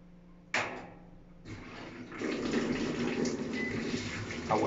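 Frigidaire SFLG1011 washer in diagnostic mode starts filling with hot water: a click, then a steady rushing water flow into the drum, close and continuous, growing fuller after a couple of seconds.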